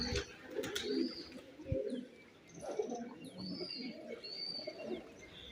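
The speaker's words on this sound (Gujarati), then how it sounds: "કબૂતર છે" Pigeons coo softly at a farm well, low repeated murmuring calls at moderate distance, with faint chirps from other birds and a few light knocks.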